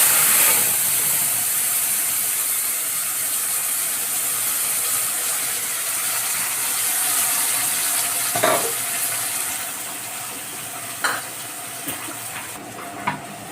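Black cumin, onion and chili paste fry in a pan during a village katla fish curry, a loud continuous close sizzle with a few stirring scrapes and clatters near the end, no talk.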